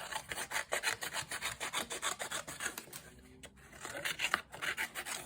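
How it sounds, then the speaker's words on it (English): Snips cutting out paper decoupage pieces for cardmaking, a steady series of crisp, rhythmic snipping cuts close by with a short pause midway, no voices. "I do love these snips."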